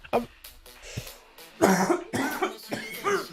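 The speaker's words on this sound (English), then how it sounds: "now I'm coughing my lungs out" Several harsh coughs in quick bursts, close up, with a throat-clearing sound early on and no clear speech.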